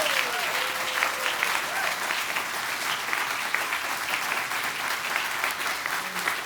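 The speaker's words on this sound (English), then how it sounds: "I'd like to have one huge round of applause for our 18 afternoon" Conference audience at an astronaut scholar technical session gives a big round of applause for the scholars, a loud, sustained roar of many clapping hands lasting several seconds, with scattered voices and cheers inside the crowd noise.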